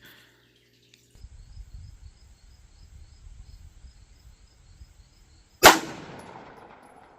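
A Staccato pistol fired at a target 150 yards away on an outdoor range: crickets chirp steadily, then a single loud, sharp shot cracks near the end and trails off in a long echoing decay.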